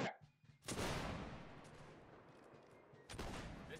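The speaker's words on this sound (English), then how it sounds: "this is probably where I'd do some volley fire" Musket volleys in Mount and Blade with the Whigs and Tories mod, set at the Battle of Bunker Hill. Two loud, massed blasts ring out, the first with a long rolling echo that slowly fades and the second coming about two and a half seconds later.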